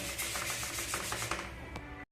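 A motorcycle tank cover from a Megapro being sanded by hand with 400 grit sandpaper, close steady rhythmic rasping strokes that continue for about two seconds before stopping abruptly.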